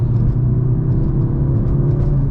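A Mercedes-AMG C43 climbs a hill under throttle, its engine a steady, dense low rumble heard from inside the cabin, continuous and loud with no voices.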